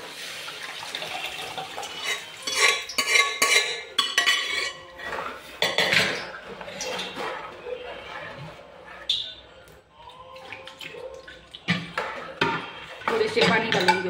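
Dal is stirred into the tempering in a metal pan, giving repeated clattering spoon scrapes and knocks with wet sloshing, close and fairly loud, in irregular bursts with a short pause midway.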